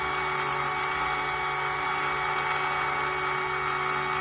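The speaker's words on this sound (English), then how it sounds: "I'm gonna basically take the wheel and the part that I cut off, I'm gonna sand that smooth" Power sander smoothing the inside surface of a wheel with 80 grit sandpaper, a loud, steady, high-pitched whine with continuous abrasive hiss and no pauses.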